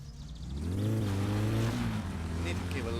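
A cold car engine in the game My Summer Car revs up loudly and steadily, holding a rising drone that dips briefly near the end, with no talking over it.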